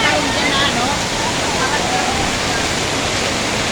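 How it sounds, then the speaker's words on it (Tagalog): Floodwater from Typhoon Kristine rushes steadily past, a dense, unbroken roar of water close by and loud throughout, with no pauses or distinct splashes. "Grabe yung baha oh."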